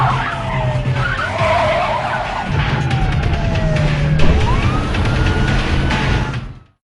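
Film car chase in which skidding cars screech with long tyre squeals over engine roar and siren-like wails, one sharp screech near the end, loud and continuous before cutting to silence.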